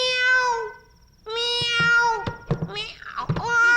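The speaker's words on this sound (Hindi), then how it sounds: "बिल्ली है क्या?" A house cat meows several times up close, with a long drawn-out cry, a short pause, then further meows mixed with small clicks and rustles.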